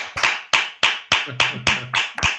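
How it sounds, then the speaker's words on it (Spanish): Hand clapping during an online meeting, about eight sharp separate claps in an even rhythm, close to the microphone and loud, with a faint steady tone under the middle claps. "No, habrá que aplaudirle, ¿no?"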